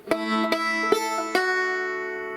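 Plucked banjo notes ring out in four distinct pinches with the open third string, each with a sustained open-string drone underneath, close and clear with no talking.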